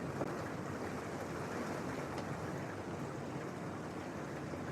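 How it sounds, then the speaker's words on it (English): A thunderstorm downpour makes an even, roaring wash of rainfall, close and continuous for the whole stretch, with no speech over it. "It's pouring, bro."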